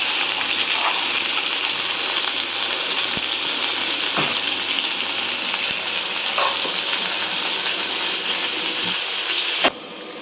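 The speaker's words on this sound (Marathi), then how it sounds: "कांदा चांगला लाल होईपर्यंत भाजून घ्यायचा" Onions frying in a pan until reddish-brown for a surmai fish curry, a dense continuous sizzle close by with occasional scraping strokes and a sharp knock at the end, with no talking.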